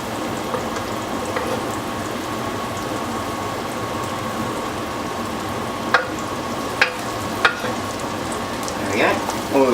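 Onions and garlic sizzle steadily in a generous pool of oil for a fatty potato and bacon gratin, a continuous frying hiss with a few sharp clinks and utensil knocks near the end.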